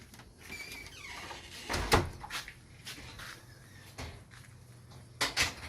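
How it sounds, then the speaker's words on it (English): A caravan door is closed outdoors, with a solid thud followed by a few smaller knocks and latch clicks against quiet background noise and faint birdsong. "Probably should close the caravan door first."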